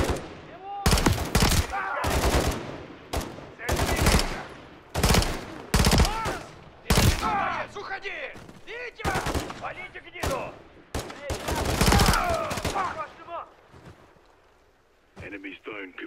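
Gunfire in Call of Duty Modern Warfare 3 on PS5, a string of loud, sharp bursts and single shots repeating every second or so, with in-game voices talking between volleys.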